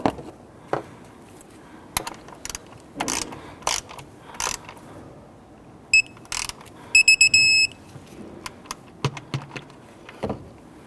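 A ratchet tightens the center bolt on a 2011-2015 Kia Sorento engine while the oil pressure switch is replaced, with sharp clicking bursts at irregular intervals, close and loud between stretches of quiet, plus a brief beeping tone midway.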